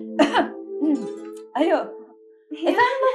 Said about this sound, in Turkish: Ne biçim öksürüyorsun öyle havlar gibi?